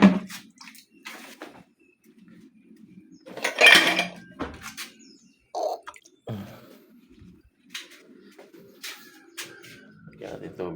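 Water poured from a container into a cooking pot sitting on a home gas stove, ready for simmering Lucban longganisa sausages. A short splashing burst rises among clanks of pots and utensils, with a voice talking on and off.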